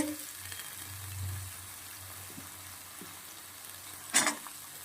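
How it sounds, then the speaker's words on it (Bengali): Cut potatoes fry together with mustard greens in a pan: a quiet, even sizzle with a brief louder scrape of stirring near the end. "কেটে রাখা আলুগুলো দিয়ে দেব একসঙ্গে ভাজি হয়ে যাবে"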